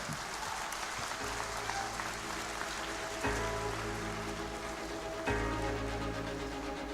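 Applause from an audience at a formal inaugural award ceremony honoring a recipient, a soft, steady patter of many hands, fairly distant and even, with a few slightly sharper moments along the way.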